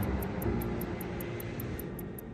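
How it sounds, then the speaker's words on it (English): Airplane at Heathrow airport, a steady broadband engine roar holding at an even level throughout, with no voices present. "Heathrow is host to 81 different airlines and their fleets of planes."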